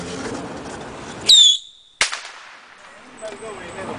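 Fireworks going off at a Fourth of July celebration in D.C.: a crowd murmurs under a loud whistling, crackling burst, then a sharp bang, with scattered pops and voices afterward.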